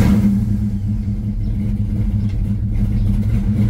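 An 89 Ford Mustang Foxbody convertible with a swapped Coyote V8 idles after starting, a loud, close, steady low rumble with a slight choppy pulse and no voices.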